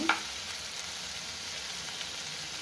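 Spice paste for chana masala sizzles and fries steadily in a pan, a continuous even crackle with a brief clatter at the start.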